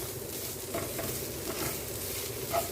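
Broccoli sautéing with salt and masala in a pan for a pepper fry, giving a steady soft sizzle with scraping stirs and a few light clinks of a spoon against the pan.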